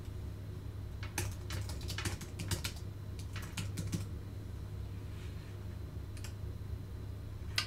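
Someone types on a computer keyboard in quick, uneven bursts of close clicking keystrokes, then a few sparse taps after a pause, all against a low background hum.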